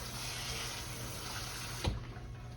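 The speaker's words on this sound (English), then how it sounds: "We're gonna put a little bit more water in here" Water poured into a pot of simmering plums while making old-school plum jelly, a steady running splash of liquid with a brief louder knock near the end as the flow stops.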